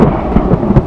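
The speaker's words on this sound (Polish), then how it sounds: "mamy burzę" Heavy rumbling thunder rolls through a thunderstorm over a rain-soaked cowboy bivouac, loud and dense, with a steady wash of rain and no voices.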